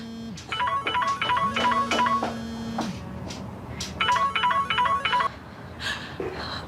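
A mobile phone rings with a bright electronic melody in repeated bursts, close and loud, pausing briefly before the pattern returns; no one speaks over it.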